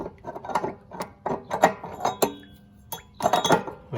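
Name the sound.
socket on hex nozzle of RV water heater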